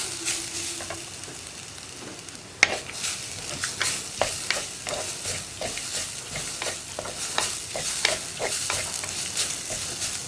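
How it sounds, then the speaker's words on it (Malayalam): Coconut flower thoran, mixed with ground coconut paste and curry leaves, fries in a pan while a spoon stirs it. Frequent close scrapes and taps sound over a continuous sizzle, and there is no talk. "1 മിനിറ്റ് ഒന്ന് ഇളക്കി കൊടുക്കുക."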